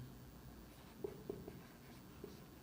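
Pen or pencil writing on paper during a maths lesson, heard as faint, sparse taps and scratches over a quiet room with no speech.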